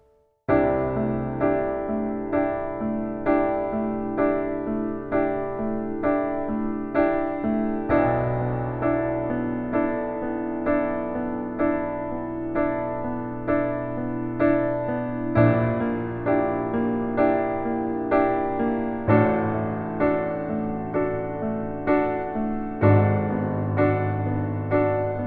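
Piano playing the second outro riff of a song, with left-hand octaves starting on C under slow sustained chords, a continuous full-bodied passage with regular chord changes and no talking.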